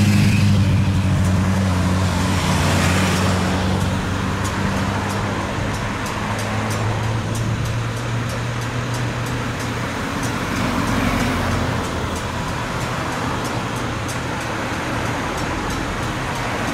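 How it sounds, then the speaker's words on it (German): Big cars drive past one after another at a roadside rail reconstruction site in the Ahr valley, a loud, steady roar of engines and tyres that swells and fades as each one goes by, with no talking. "Die großen Autos alle vorbei hier."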